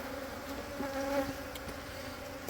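Bees buzzing around an opened beehive during an inspection, a continuous low droning hum with individual bees swelling briefly louder as they pass close.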